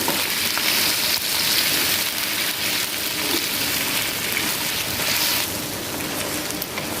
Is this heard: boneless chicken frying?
yes